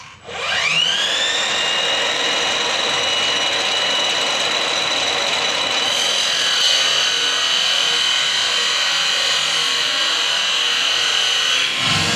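A power saw with a dull blade whines loudly and continuously through wood, its high pitch holding steady with a slight shift partway through the long cut.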